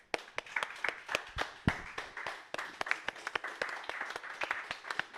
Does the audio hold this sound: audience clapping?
yes